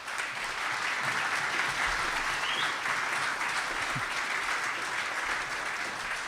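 An audience at a city's State of the City address applauds steadily, a dense, even wash of clapping heard from a moderate distance with no talking.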